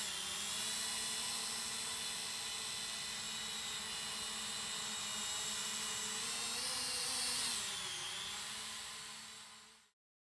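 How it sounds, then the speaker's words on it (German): A steady high-pitched motor whine with buzzing harmonics from a JJRC H106 quadcopter drone in flight hums continuously, its pitch shifting slightly midway before cutting off abruptly near the end. "So vorbereitet starte ich als Abschluss des Testberichts einen Kameraflug mit der JJRC-Drohne."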